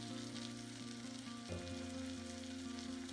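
Chettinad-style king fish fries in hot oil with curry leaves, giving a steady, quiet sizzle and crackle. It runs unbroken, with no talking over it.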